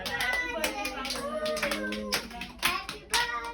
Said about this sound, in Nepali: सबै ताली त बजा